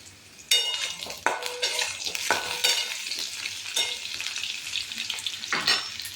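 Potatoes frying in a pan while a spatula stirs them, a steady sizzle broken by repeated scraping strokes against the metal, close and fairly loud with no talking.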